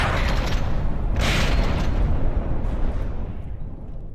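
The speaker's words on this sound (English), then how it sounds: "Another large explosion, but doesn't seem to have been an engine hit." A large explosion aboard an airship in the naval combat game From the Depths, with a loud, dense rumbling blast that holds steady for a few seconds and then slowly thins out.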